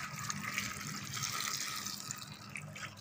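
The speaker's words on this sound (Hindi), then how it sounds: "पानी ज्यादा आ गया" Water from a kitchen tap runs in a steady, fairly loud hiss and splash for the full stretch, with no talk over it.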